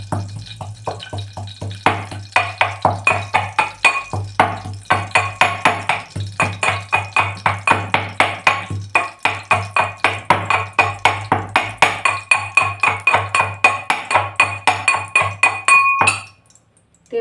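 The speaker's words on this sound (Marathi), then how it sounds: "थोडासा आलं घेते अगदी एक छोटा तुकडा खलबत्त्यामध्ये टाकायचा सात आठ लसणीच्या पाकळ्या आणि ठेचून घ्यायचं आहे" Ginger and garlic cloves being crushed in a mortar and pestle, a fast, steady series of sharp pounding knocks with a ringing clink, loud and close, continuing without a break for about sixteen seconds before stopping.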